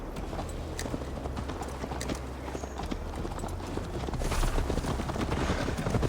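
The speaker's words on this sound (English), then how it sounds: "Mount up, Eivor. It's a long ride to Tamworth." Horse hooves clip-clop at a riding pace in Assassin's Creed Valhalla, a steady galloping rhythm that swells louder near the end over a low rumbling game ambience.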